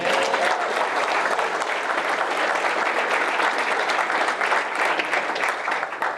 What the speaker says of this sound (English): So if we can just have another round of applause for Kimmy.